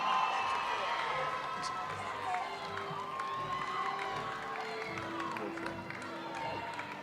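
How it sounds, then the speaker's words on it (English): A graduation ceremony audience claps and cheers for the class of 2022, a steady wash of crowd noise with shouts and whistles rising above it throughout. "Let's give our graduates a round of applause."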